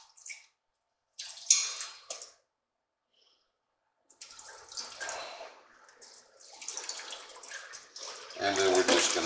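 Chicken wings get washed by hand in a large bowl of lemon water, with splashing and sloshing in uneven bursts, a quiet gap in the middle, and a louder splash near the end.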